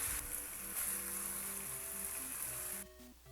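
Red onions and chicken sizzle in a hot pan for a stir fry, a steady, close, crackling hiss with soft background music, easing off toward the end.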